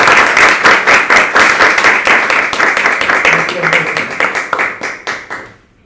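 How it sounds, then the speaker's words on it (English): An audience at a Toastmasters club meeting claps in a round of applause, fast rapid hand claps that hold steady and loud, then thin out and stop near the end. "So I think she deserve one round of applause from each one."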